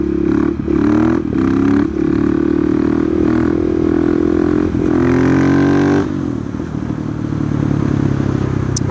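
A 2020 KTM 690 SMC R single-cylinder supermoto ridden on a quiet countryside road, its engine loud and close as it revs hard, drops back and rises again in surges while the rider pulls wheelies, with wind roar throughout.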